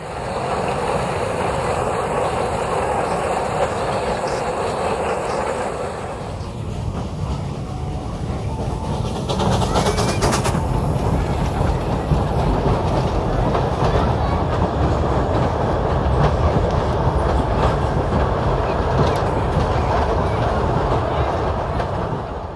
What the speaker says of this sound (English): The train emerges from underneath a footbridge, crosses the pond, past the gondoletta, and disappears in a deep cutting.